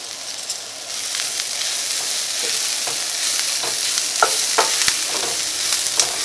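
Onions sauté in a pan with turmeric and coriander powder for a potato curry, giving a steady close sizzle with scraping stirs and soft clinks throughout, and no voices.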